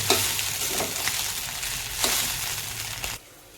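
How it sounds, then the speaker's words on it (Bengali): Noodles with paneer and egg are stir-fried in a pan, making a loud continuous sizzle broken by repeated scraping strokes of a spatula, before the sound suddenly drops away. "নুডলস দেওয়ার পরে কিছুক্ষণ এভাবে ভেজে নেব"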